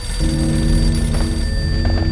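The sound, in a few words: telephone ringing in Max Payne video game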